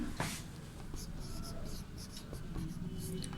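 Chalk or marker scratches and taps across a board in short quick strokes, close and fairly clear, as Sanskrit words are written out during a lesson.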